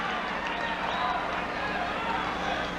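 A large crowd at Jimmy Carter's 1976 presidential victory speech, gathered at four in the morning, fills the space with a steady, dense roar of cheering and murmuring that holds evenly throughout.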